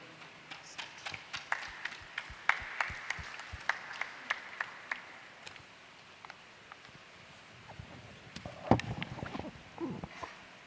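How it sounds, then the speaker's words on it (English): Sparse, scattered clapping from a small convocation ceremony audience, quiet and thin, with a few louder claps and some rustling toward the end. "You didn't give her a very loud applause."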